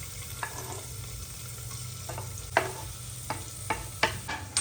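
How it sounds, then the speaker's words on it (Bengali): Chopped onion with ginger and garlic sizzles steadily in a pan, punctuated by irregular scraping stirs of a spatula, close and fairly quiet with no talk. "এবার পেঁয়াজটা ভাজবো"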